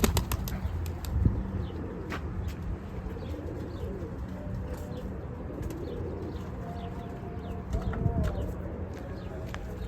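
A male Arab pigeon flapping its wings among other birds, with soft cooing and several bursts of wing flaps over a steady outdoor murmur, at moderate distance.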